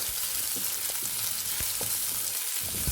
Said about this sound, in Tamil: ஆயில் ஹீட் ஆன பிறகு ஒரு வெங்காயம் இது மாதிரி சின்னதாக கட் பண்ணி வச்சுருக்கேன், அதை சேர்த்துக்கிறேன்.